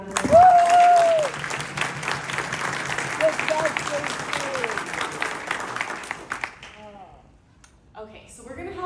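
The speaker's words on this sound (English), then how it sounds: "Can we give Jason another round of applause" An audience at an economic development panel on rail in Ohio applauds a presenter, with sustained clapping from a crowd that fades out after several seconds.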